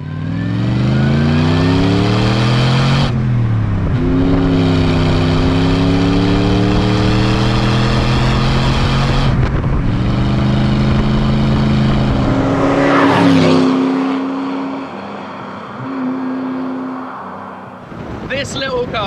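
A Daimler Dart's 2.5 litre V8 engine revs up and down in long, rising and falling waves, close and throaty, then settles to a lower idle before a final blip.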